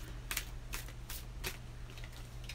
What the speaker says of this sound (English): And I'm shuffling in case you guys are wondering what I'm doing.